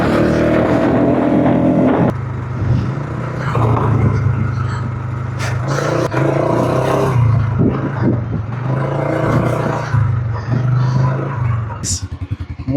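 An ATV engine rumbling and revving while riding over sand dunes in Nubra Valley, loud and close with uneven throttle surges and clattering, with brief voices in places.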